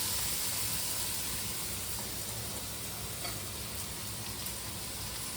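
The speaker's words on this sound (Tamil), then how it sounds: "2-3 மினிட்ஸ் வதங்கினா போதும். மாங்காய் ரொம்ப வதங்கிடக்கூடாது." Raw mango pieces sautéing in a pan with golden-brown onions give a steady, even sizzle that stays close and continuous throughout, with no voices.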